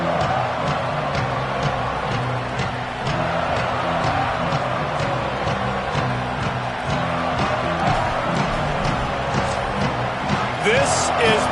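Steady roar of a high school football stadium crowd at an Arkansas game, a continuous broad wash of many voices with a band or chant rhythm underneath and a commentator talking over it.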